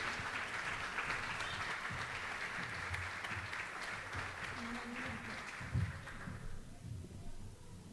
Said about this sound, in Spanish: Le damos la bienvenida cariñosa con un fuerte aplauso a la Moni.